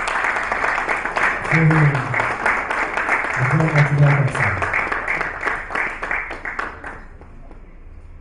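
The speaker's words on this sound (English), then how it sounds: "Please, a round of applause" An audience at a Mortgage Banking Association of Nigeria event claps steadily for several seconds while a voice speaks over a PA, and the applause thins out toward the end.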